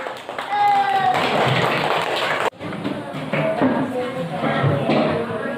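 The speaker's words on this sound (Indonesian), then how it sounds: "Kasih tepuk tangan." Classroom of students clapping for a presentation, a dense spell of hand claps that breaks off sharply midway and then resumes more loosely, with children's voices chattering throughout.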